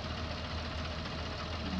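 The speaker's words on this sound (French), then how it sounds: "on va déjà déplier la machine" A farm machine's engine runs at a steady idle as the machine is unfolded, giving a dense, even rumble with a faint knocking texture that holds at the same level throughout.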